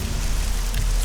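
Rain falls in the video game Nehrim, a steady hiss of dense drops over a low rumble, continuous and moderately loud with no voices.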